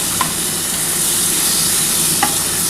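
Fried potato and ridge gourd sizzle loudly in a pan as poppy seed paste ground with green chilli goes in, a dense, even hiss with a couple of sharp clinks from the utensil, close and without voices.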